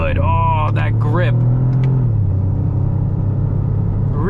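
A 2025 Toyota GR Corolla hot hatch rumbles steadily through corners, its engine a continuous low drone from inside the cabin, with a voice talking over the first two seconds.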